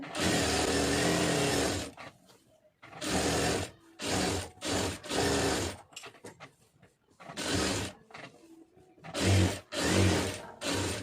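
A sewing machine stitches around a lining blouse in a series of short, close bursts, starting and stopping repeatedly with brief gaps of near silence between runs.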